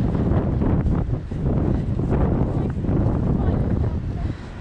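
Strong wind buffets the microphone while riding a Trek Marlin 7 mountain bike, a loud, steady low roar with gusty surges and no break.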